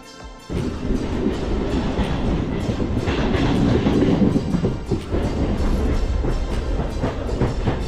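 A train rolls past a platform on the Virar line, with a loud, steady rumble and clattering wheels starting abruptly after a brief quiet moment and continuing without a break.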